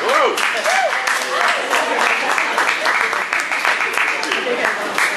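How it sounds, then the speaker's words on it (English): Audience at a live magic show applauding after a trick, steady clapping for about five seconds with a few voices and whoops rising over it at the start. "You can clap for that one."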